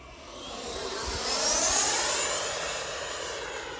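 An Xfly T-7A Red Hawk 80mm electric ducted fan model jet flies past, its high whooshing whine swelling loud as it nears and fading slightly as it pulls away.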